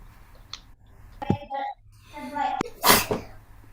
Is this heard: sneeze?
yes